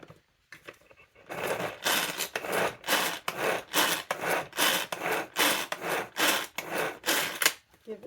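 Pull-cord chopper finely chopping pickles, a burst of rapid rasping blade whirs repeating with each pull, about a dozen close, loud strokes in a steady rhythm with no talking.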